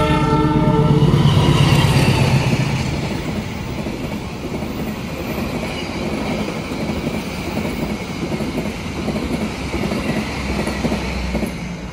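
Argo Muria passenger train passing through Batang station in Indonesia, loud and close, with a horn blast at the start followed by steady rolling rumble and clickety-clack of wheels on rails, no talk.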